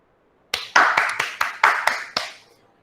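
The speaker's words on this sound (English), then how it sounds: "So can we all clap for her?" Online participants on a call clap in a short sequence of about eight sharp, separate claps with uneven spacing, starting after half a second of silence and ending with a quick fade.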